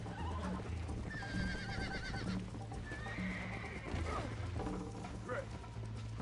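A horse in the video game Red Dead Redemption whinnies shrilly a couple of times over hoof clip-clops and a low mechanical hum, with brief gear-like rattles in between.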